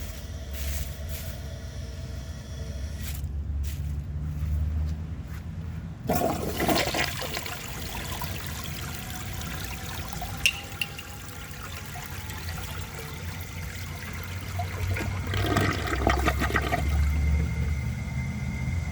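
A 1973 Eljer Emblem toilet flushes in a loud rushing surge, then refills with a steady trickling and gurgling stream of water that runs on to the end, with no voices.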